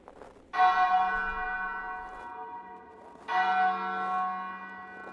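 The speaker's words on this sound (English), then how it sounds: "I recognize those bells." Church bells ring out in two long resonant strikes, each ringing on and slowly fading, clear and moderately close.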